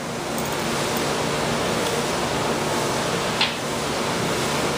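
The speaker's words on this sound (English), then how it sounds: "we put the bottle directly over, flip, and drain" Water pouring out of an upturned sample bottle during a water hardness test, a steady, close, full rush of splashing noise that holds evenly throughout without pause.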